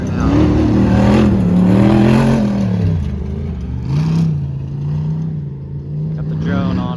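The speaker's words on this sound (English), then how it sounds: "Catching these cars come through now." Off-road race cars in the 4400 class passing on a desert trail at King of the Hammers, loud engines rising and falling in pitch as vehicles accelerate through, with brief talk underneath.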